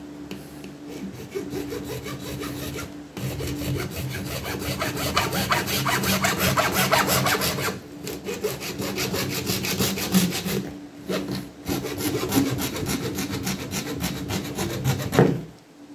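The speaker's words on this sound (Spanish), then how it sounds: "vamos a tomar el tubo PVC que tenemos de 3 cuartos y vamos a cortarlo de la misma longitud que el pedazo de madera" A hand saw cuts through 3/4 inch PVC pipe with steady, continuous rasping strokes, close and fairly loud, broken by a few brief pauses.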